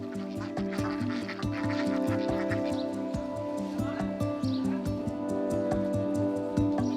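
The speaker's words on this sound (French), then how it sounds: "Samuel sort ses canards de Duclair, une autre race normande menacée." Duclair ducks quack repeatedly in a busy, steady chorus over a continuous droning background.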